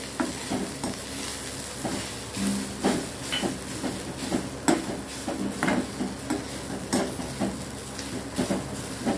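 Grated coconut being stirred into a hot pan for mint chutney, soft scraping strokes repeating at a steady rhythm over a faint sizzle, close and fairly quiet, no voices.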